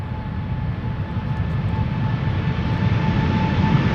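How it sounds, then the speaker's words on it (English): A KLM Boeing 777-300 bound for Calgary takes off from Amsterdam Schiphol, its jet engines a steady, loud broadband roar with faint tonal whine that swells slightly over the four seconds, with no voices. "KLM flight 677 is taking off to Calgary."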